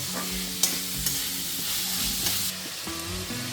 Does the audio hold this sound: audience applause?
no